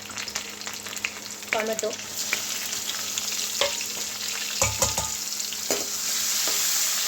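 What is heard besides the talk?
tempering spices frying in oil for dal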